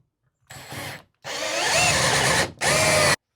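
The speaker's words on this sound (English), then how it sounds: "Just drive that screw right through." Power drill driving a screw into a garage bike hanger mount in three bursts: a short whir, a long steady run that strains and rises, then a final brief burst, loud and close.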